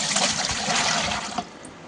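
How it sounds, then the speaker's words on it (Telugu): Water pours steadily into a vessel of curd being thinned into buttermilk, a continuous close splashing rush that eases off toward the end. "ఇప్పుడైతే వాటర్ యాడ్ చేసుకోవాలి."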